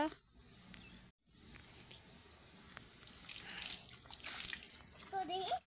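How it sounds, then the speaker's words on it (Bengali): Water splashing and running as a child bathes, a continuous wet wash with brief splashes and a voice near the end. "তো ছেলে এখন স্নান করছে"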